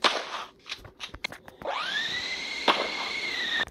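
Video game sound from Strike Fortress Box as an airplane spawns: a few sharp pops and clicks, then a steady whining tone, moderately close, with no talk.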